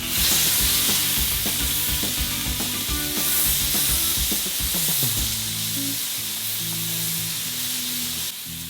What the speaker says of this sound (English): Grill the squid and eggplant until they achieve a delightful charred flavor.